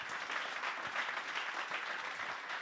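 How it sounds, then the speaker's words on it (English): An audience at a digital technology summit claps for the contest jury, a full and even burst of applause that carries on steadily, alone and moderately loud. "give me a warm applause to the jury of our contest"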